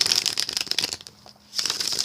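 A deck of tarot cards being shuffled close up, crisp riffling bursts that pause briefly mid-way and then resume.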